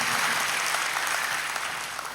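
Church congregation applauding at an early-morning service in Solo, a dense, even wash of clapping hands that fades slightly toward the end.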